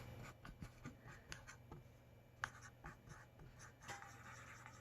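Soft, close scratching of a pen writing on paper in short strokes and taps, quiet and intermittent against a low background hum.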